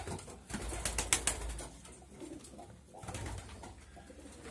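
Close pigeons coo in low, throaty rolls, with a brief flutter of wings, against faint outdoor background noise.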